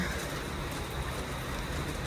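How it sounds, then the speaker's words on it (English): Steady broadband rain hissing down during a tropical rainy-season storm on a farmstead, constant and fairly close with no pauses for about two seconds. "Look at the rain."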